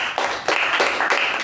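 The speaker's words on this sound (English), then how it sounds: "Let's give a round of applause to our acting president," Applause at a Toastmasters meeting, heard as a few evenly spaced, fairly loud claps in a short steady rhythm rather than a full crowd.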